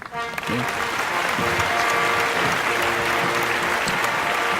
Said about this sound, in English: I hope there's a lot more clapping that goes on afterward.